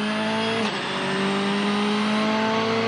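Rally car at full throttle on stage 10 of the 2013 Rallye de France Alsace, a loud close engine note holding high revs with a brief gear-change dip before pulling on steadily.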